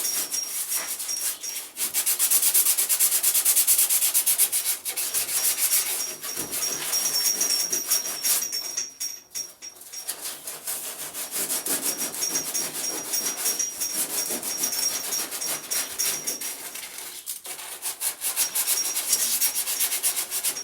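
Steady abrasive rubbing, close and continuous, with brief pauses and changes in stroke intensity as a Dodge car bonnet is sanded.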